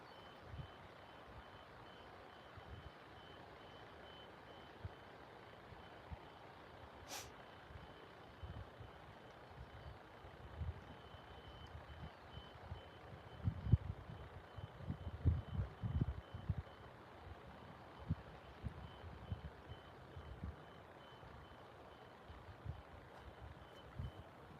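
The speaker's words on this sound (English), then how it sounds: "There's that backup beeper again." A vehicle's reversing beeper sounds faint and distant in a steady tone behind a constant outdoor rumble at a fishing bank, with a few louder nearby knocks and thumps midway.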